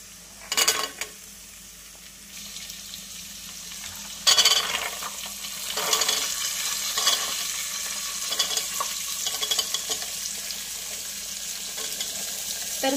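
Mixed vegetables stir-fry for a pulao in a pan, with a continuous sizzle broken by louder scraping bursts as the spoon stirs.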